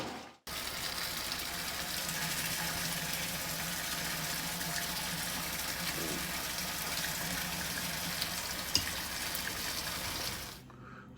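Tap water runs steadily into a fermenter that is being filled to 20 liters for a sugar wash. The pour makes a continuous loud gush from start to finish and cuts off abruptly at the end.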